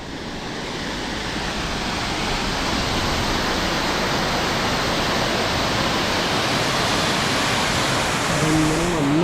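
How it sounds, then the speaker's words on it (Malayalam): A waterfall on Munnar Gap Road rushes in a loud, steady broadband roar, close by and continuous throughout, with no other distinct sounds. "അപ്പോൾ ഇതാണ് കേട്ടോ വെള്ളച്ചാട്ടം കാണുന്നതാണ്"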